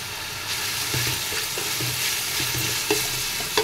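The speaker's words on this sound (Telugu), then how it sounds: "అల్లం వెల్లుల్లి పేస్ట్ వేస్తున్నానండి" Ginger garlic paste sizzles in hot oil while being stirred for egg biryani, a steady bright frying hiss broken by scraping spoon strokes against the pan, with no talking.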